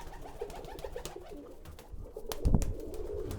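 Roller pigeons coo steadily inside an aviary, with soft, overlapping calls close by, a few sharp knocks and rustles, and a louder thump of wings or movement near the end.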